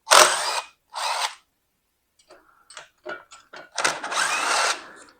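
A power tool or impact driver removes transmission mount bolts on a 2010 third-generation Toyota Prius. Two short, loud bursts come first, then a pause, scattered clicks and ratcheting ticks, and a longer sustained burst close by.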